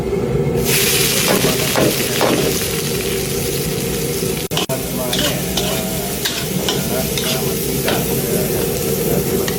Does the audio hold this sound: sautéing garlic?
yes